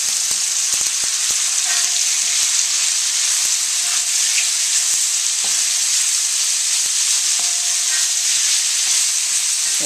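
Bok choy sizzles and fries in a very hot pan alongside cooked pork and shrimp, a steady loud hiss with occasional scraping stirs and light clinks.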